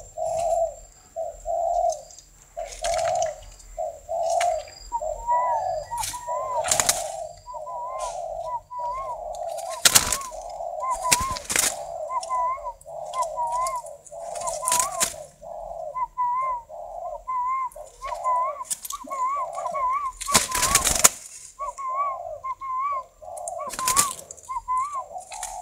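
A male spotted dove coos repeatedly in a steady rhythmic series of soft, hollow notes, close by and clear, with intermittent clicks, rustles and other bird sounds in between.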